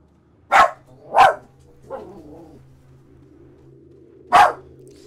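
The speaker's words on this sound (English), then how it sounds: "Yeah, I cannot control that dog." Three sharp dog barks from a dog in the Resident Evil 4 video game, two close together near the start and a third after a pause, with a softer whimpering growl in between and a low game hum underneath.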